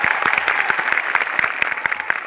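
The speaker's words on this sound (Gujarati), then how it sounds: "સંઘર્ષશીલ એવા આનંદભાઈ પટેલ સાહેબ માટે જોરદાર તાળીઓ પાડ લઈએ" A brief, lively burst of crowd applause at a public gathering marking Birsa Munda's 150th birth anniversary, many hands clapping close and loud for a politician.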